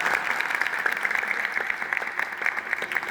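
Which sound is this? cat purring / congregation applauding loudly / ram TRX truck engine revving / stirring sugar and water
congregation applauding loudly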